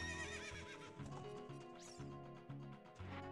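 A horse in the video game Ocarina of Time neighs loudly with a rising whinny, accompanied by rhythmic clip-clop hoofbeats over steady game music.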